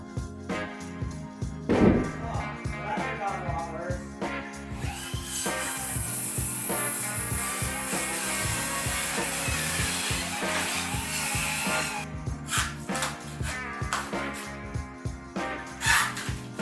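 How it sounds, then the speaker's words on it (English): A power tool cuts a bevel along the edge of a wooden beam during a studio build, a continuous loud grinding, rasping roar lasting about six seconds, framed by shorter rhythmic bursts of cutting and scraping, close up. "I beveled the edge of the beam so it would tuck up into the ceiling as far as possible."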